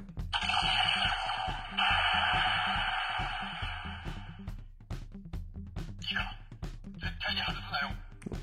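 Electronic laser weapon effects from a DX Earth Garon robot toy, a bright buzzing zap sequence with missile-like bursts, loud and close, with a person talking intermittently over it.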